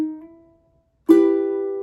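Two ukulele strums ring out on the three lowest strings, forming a chord played fingerstyle. The first decays into a short silence, then a louder, brighter second strum rings on, close and alone.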